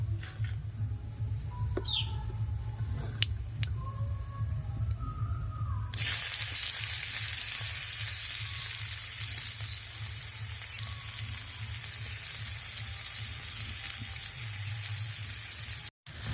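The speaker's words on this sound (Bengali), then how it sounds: "এবার আমি দিয়ে দেবো পেঁয়াজ কুচানোটা।" Chopped onions added to a pan over a wood fire, breaking into a loud, steady sizzle after a quieter stretch with a low crackling hum and a few clicks.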